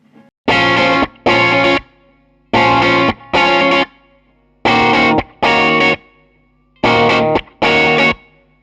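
A clean electric guitar tone comes through a small Watkins Westminster 5-watt amp, with four pairs of strummed chords separated by short silences, each chord ringing briefly and cut off crisply.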